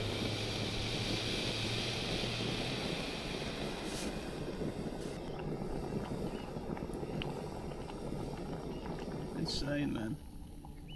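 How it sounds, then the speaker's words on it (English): Water boils on a camping stove outdoors during a solo wild camp on an island, a continuous rolling bubble and burner roar close to the mic, with brief clicks near the end before it drops off. "It's just crazy how quick this boils water."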